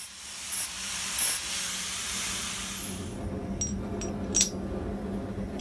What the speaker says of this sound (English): I just clean up the edges a bit with my angle grinder and an 80 grit flap disc